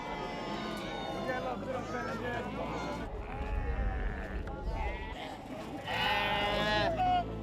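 Sheep bleat repeatedly and loudly at a busy weekly livestock market in Widu, where goats and cattle are also sold, with crowd voices and market bustle mixed in.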